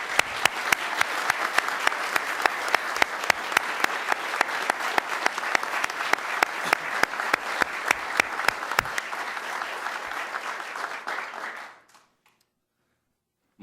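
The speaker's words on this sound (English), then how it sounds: "Let's give him a round of applause." Audience at a Key to the City ceremony in Miami Beach gives sustained applause, many hands clapping with some louder claps standing out, then the clapping cuts off into near silence.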